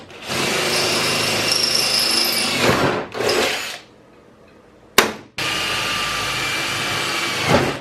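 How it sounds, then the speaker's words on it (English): A power drill bores rivet holes through a Mazda Miata hood, running in long sustained bursts with brief pauses between holes, loud and close. "so now we're just gonna drill it all out and rivet it"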